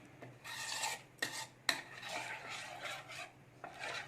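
A spoon scrapes and swirls through thin besan gram flour batter mixed with water in a bowl, several rasping stirring strokes with a few sharper clinks against the vessel, close and quiet with no talk.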